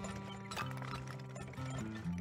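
Horses in the video game Turmoil: hoof clip-clops and a brief whinny over a steady game music bed, moderately quiet and continuous.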